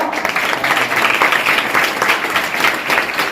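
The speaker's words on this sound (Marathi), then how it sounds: "जोरदार टाळ्या वाजवा" Audience applause welcoming a guest at a Marathi spiritual gathering, loud sustained clapping from a large crowd with an even, continuous texture throughout.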